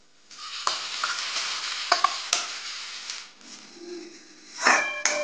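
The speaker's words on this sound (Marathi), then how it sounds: "परतल्यानंतर आपण टाकूया आता याच्यात मटकीची डाळ" Moth bean dal sizzling and being stirred in an oil-coated pan for onion pat bhaji, with steady frying hiss, scraping spatula strokes and a few sharp knocks, close and moderately loud, no talking.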